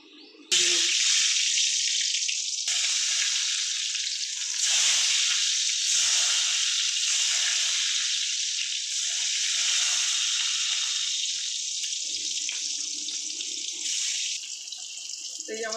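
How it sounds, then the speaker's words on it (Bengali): Eggplant pieces fry in hot oil with a loud, steady sizzling hiss that runs throughout, close up, with faint clinks underneath. "বেগুনগুলো ভাজা হয়ে গেছে এবার বেগুনগুলোকে নামিয়ে দেবো"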